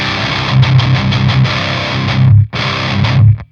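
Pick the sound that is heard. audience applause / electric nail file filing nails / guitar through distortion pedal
guitar through distortion pedal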